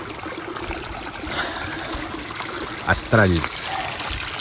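Water trickling and flowing down a washed-out dirt track turned into a stream, a steady close rush, with a brief spoken word partway through.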